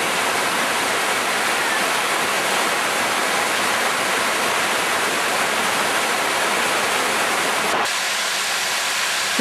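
Constant, loud roar of Florence Falls in Litchfield National Park, a dense wash of falling water heard up close, unbroken for the whole stretch.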